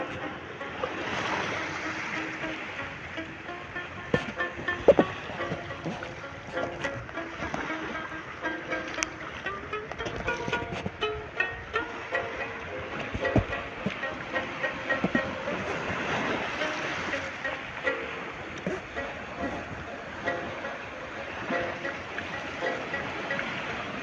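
Rough, swelling sea ahead of an incoming typhoon, with waves crashing steadily and surging in broad washes at a village shoreline; a continuous roar with scattered sharper breaks, no talk.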